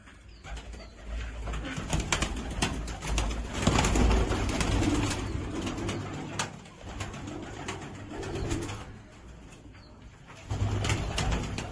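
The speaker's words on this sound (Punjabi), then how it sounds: "ਇਹ ਹੈ ਰਾਜਨ ਵਾਲੇ ਕਬੂਤਰਾਂ ਦੀ" Pigeons coo repeatedly in low, throaty murmurs, with some rustling and flapping mixed in, fairly close and steady throughout.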